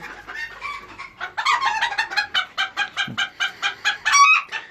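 Chickens and quails in a coop cluck and call repeatedly in a rhythmic series of squawks, close and loud, with bird chatter throughout and no talking.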